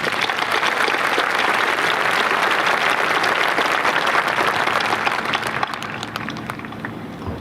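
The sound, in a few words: audience applause for teachers at graduation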